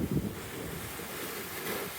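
Ocean waves at high tide in wind, a broad rushing wash of surf with heavy wind buffeting the microphone, steady and close, with no talking.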